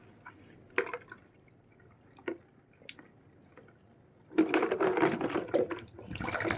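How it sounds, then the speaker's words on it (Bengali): Baby feeding bottles are washed with liquid soap: scattered wet squishes and drips, then a burst of running, splashing water near the end. "ফিডিং বোতলগুলোও ধুয়ে নিচ্ছি"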